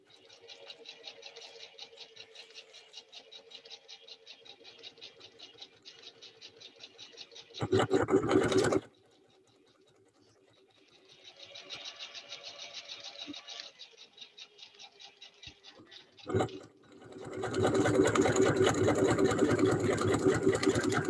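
A sewing machine runs in steady stitching bursts on an ninja costume build, with a wider stitch set, loud and close, pausing between runs and finishing with a long fast final run; no talking.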